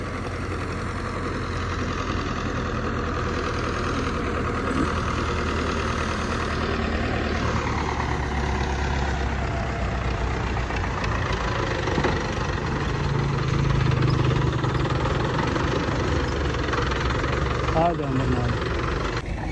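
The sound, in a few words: tractor engine starting and idling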